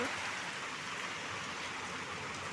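Heavy rain pours in a constant, even hiss with no breaks, filling the whole scene at a steady level.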